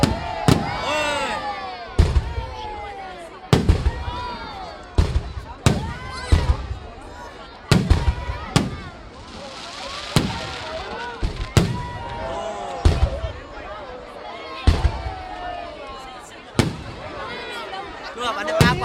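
Fireworks launched and bursting in the sky: a long series of sharp, loud bangs at irregular intervals, some closely spaced, with crackling between them. Excited voices talk over them throughout.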